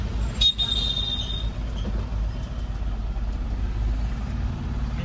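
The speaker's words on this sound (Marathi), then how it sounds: "एकदम फुल जाम आहे." Dense road traffic jammed near Jalgaon, a steady rumble of engines with a brief car horn toot early on, heard close and continuous throughout.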